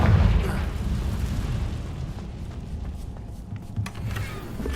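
A Confringo blasting spell detonates in the Hogwarts Legacy video game, a heavy low boom at the start that rolls into a sustained rumbling, crackling tail for several seconds, loud and close with no talk over it.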